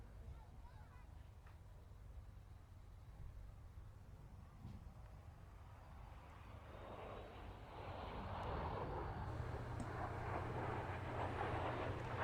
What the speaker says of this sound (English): This is the Canberra display.